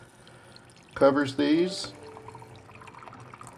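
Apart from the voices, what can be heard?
water being poured into a wet brass tumbler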